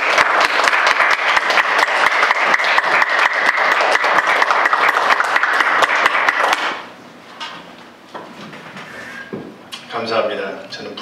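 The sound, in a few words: congregation applauding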